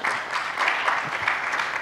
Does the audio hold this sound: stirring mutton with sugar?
no